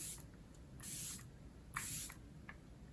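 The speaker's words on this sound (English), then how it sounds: "to set it all in, we're gonna use the Airbrush Flawless Setting Spray by Charlotte Tilbury" Charlotte Tilbury Airbrush Flawless Setting Spray mists out in three short, soft hissing bursts close by, evenly spaced with quiet gaps between them and no talking.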